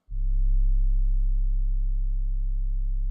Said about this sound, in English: it's just a simple sine wave sound